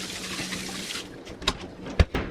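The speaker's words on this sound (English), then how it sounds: "wash my hands real fast" Tap water runs briefly while someone washes their hands in a home kitchen. There is a soft splashing stream, then a few sharp clatters and knocks near the end, and no speech.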